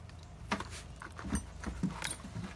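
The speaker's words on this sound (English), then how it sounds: "they jingle the keys" A bunch of keys jangles close by in several quick shakes, each burst of metallic clinking separated by short pauses.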